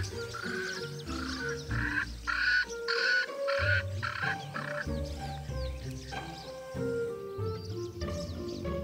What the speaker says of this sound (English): Swainson's Francolin. For such a small bird, they have a big voice.